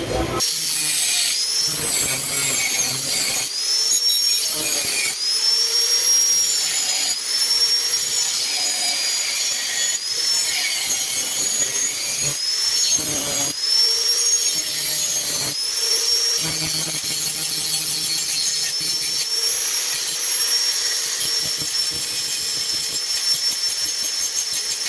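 A power tool cuts a notch into metal stock, giving a loud, steady, continuous grinding whine with a high ringing tone that wavers throughout, with no voices over it.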